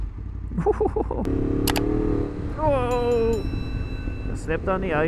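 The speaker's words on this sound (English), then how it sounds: "This is the sound this bike deserves." Loud, raw exhaust note of a de-catted Yamaha MT-10 motorcycle on an icy road, with a steady engine drone and a rising rev in the middle, mixed with wind noise and a person talking over it.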